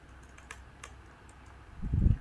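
Someone types on a computer keyboard with a few sparse, light keystroke clicks, followed by a heavier thump at the end, in a quiet room.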